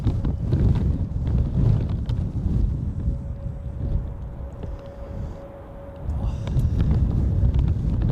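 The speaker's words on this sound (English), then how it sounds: "now the wind gets stronger for sure" Strong gusty wind from a storm at Zurich Airport roars and buffets the microphone, a heavy low rumble that swells and eases with a faint steady tone in the middle.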